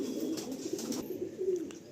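Pigeons at a seller's loft, a green-eyed hen among them, coo in a low, continuous murmur that rises and falls and carries on throughout without talk.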